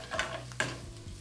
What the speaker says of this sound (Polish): I po chwili możemy wrzucić cebulę, tymianek